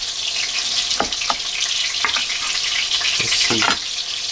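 A knife cuts through crispy fried chicken for a Trader Joe's sandwich, a few crunchy crackles over a steady hissy background, close and moderately loud.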